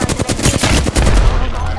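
Close, loud automatic gunfire in the Apex Legends video game, a quick string of rapid shots in short bursts, with a brief voice mixed in.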